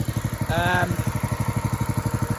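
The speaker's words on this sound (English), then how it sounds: "That is a pressure washer." A gasoline pressure washer engine idles nearby with a steady, rapid pulsing chug, and a voice briefly speaks over it.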